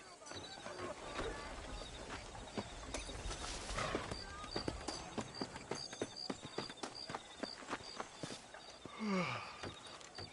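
Horse hooves clip-clopping at a steady trot while riding in the Red Dead Redemption video game, a continuous run of close hoof beats with faint ambient wind and a brief whinny near the end.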